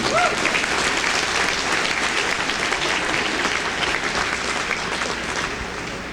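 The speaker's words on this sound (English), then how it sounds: "Let's give them a big round of applause, please." A crowd at the Wisconsin State Fair steer show applauds FFA educators, a big, loud round of clapping from many hands that holds steady and then gradually fades.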